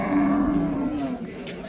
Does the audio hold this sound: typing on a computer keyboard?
no